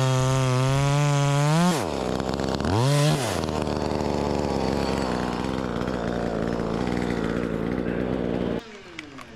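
A knock-off Echo 2511T top-handle chainsaw with a 12-inch bar revs up to a high, buzzing scream, then dips and rises again. It settles into a steady loud drone before the throttle drops near the end.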